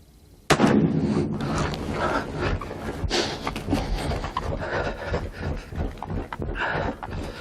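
Shotgun fired at a turkey through a Briley choke outdoors, one loud sharp blast that rings out, followed by rustling and movement in the field.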